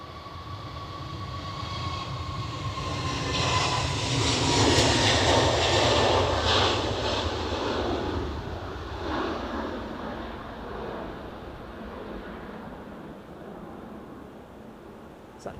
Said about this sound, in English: this will be the Jet2 A321 Neo, won't it?